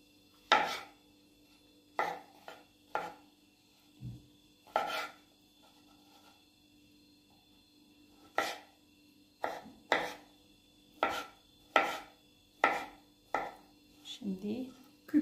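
A knife dicing vegetables on a cutting board in irregular sharp knocks, with a pause midway, then a quicker run of cuts near the end.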